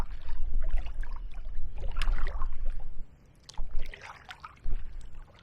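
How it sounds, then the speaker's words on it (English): Canoe paddle strokes dip and pull through river water on a downstream canoe trail, giving irregular splashes and trickles close by with short quiet pauses between strokes. "I'm going to paddle really slow through it"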